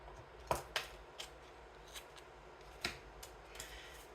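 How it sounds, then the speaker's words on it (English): Kay Buckley scissors snip paper for a mini fold-out journal, giving a few quiet, separate crisp cuts with soft pauses between them in a calm room. "These are Kay Buckley scissors."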